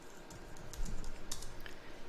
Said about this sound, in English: I can type a name.